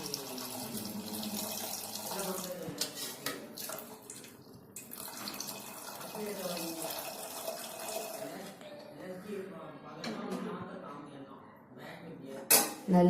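Cooked horse gram water poured into a pot in a home kitchen while making kollu rasam, a gurgling liquid splash with clinks of utensils, fairly close, with a voice speaking over parts of it.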